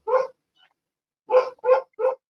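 Dogs barking close by: one bark, a short pause, then three quick barks in a row, with no other sound between them.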